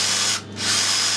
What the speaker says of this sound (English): I've set the clutch on the drill